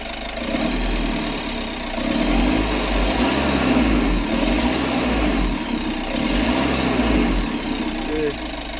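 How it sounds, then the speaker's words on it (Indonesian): A Mitsubishi L300 Euro4 pickup's turbo-intercooled diesel engine rumbles steadily up close, swelling in several rev pulses with a turbo whoosh under the throb and then easing back. "Gerungan suara turbonya mantap asoy"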